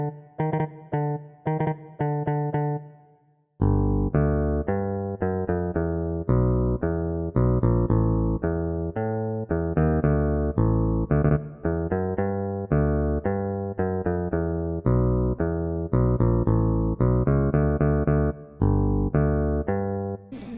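Transposed bass line of a theme from SpongeBob, a steady synthetic bass melody of short repeated notes; a brief phrase opens, a short pause follows, then it runs continuously and loud without talk.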